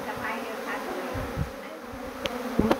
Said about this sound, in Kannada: ರಾಣಿ ಇದ್ದ ಕಡೆ ಜೇನು ಕುಟುಂಬ ಬಂದು ಸೇರ್ತಾ ಇದೆ. ಈಗ ನನ್ನ ಪೆಟ್ಟಿಗೆ ಒಳಗಡೆ ಹೋಗ್ತಾ ಇದ್ದಾವೆ